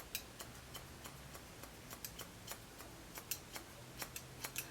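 Scissors snip rapidly into a section of hair during a home haircut using the point-cutting technique, giving a quiet, steady series of crisp little clicks close by with no talking.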